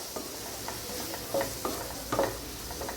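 Ginger-garlic paste and tomatoes frying in a pan, with a steady hiss of sizzling beneath a few soft, regular scraping strokes from stirring, heard up close and with no voices.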